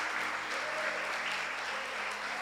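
Congregation clapping during a church sermon as the pastor invites applause for the Lord Jesus: a steady, moderately quiet wash of many hands applauding together.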